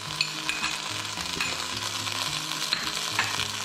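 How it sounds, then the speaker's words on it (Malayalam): Ginger garlic paste, crushed garlic, chili and fennel sauté in a pan with a dense, continuous sizzle, broken by close scraping and stirring strokes throughout. "ഇനി ഇതൊന്നൊരു പച്ചമണം മാറുന്നവരെ വഴറ്റാം കേട്ടോ."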